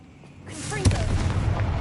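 Confringo blasting spell from Hogwarts Legacy, a sudden loud game explosion bursting in near the middle, with a rumbling, crackling tail and a rising whoosh of effects before it.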